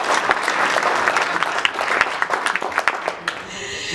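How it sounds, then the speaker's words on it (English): Audience at a State of the City address applauding a woman: strong, dense clapping that thins into scattered claps before fading, with a voice at the end. "let's give her a round of applause"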